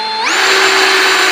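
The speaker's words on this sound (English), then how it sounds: "so there's 4 screws at the top. They go right in." A power drill spins up and whines steadily while driving screws into a panel, with a sharp rising pitch at the start that then holds, loud and close, with no talk.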